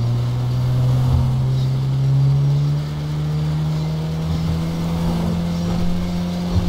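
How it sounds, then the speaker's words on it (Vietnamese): A damaged taxi engine in GTA 5 labours with a steady low drone, rising slightly before settling, continuous and fairly loud throughout with no talk. "Xe mình nó kêu nó muốn chạy không nổi luôn rồi các bạn."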